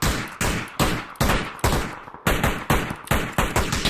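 Rapid gunfire from the battle royale game PUBG during a team scrim, about ten sharp loud shots in a fairly even burst, each with a short decaying tail, and no talk over them.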